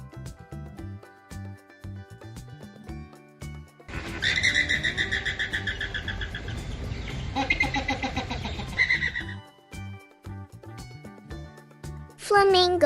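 A flamingo lets out about five seconds of dense, honking, goose-like chatter with a light music bed before and after.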